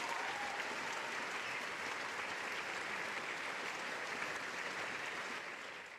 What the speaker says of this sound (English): Let's give a big round of applause to all of our Organization Excellence Award winners.